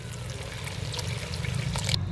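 Water is poured into masala frying in a karahi for a village-style beef karahi, with a steady sizzling, bubbling hiss throughout and no talking.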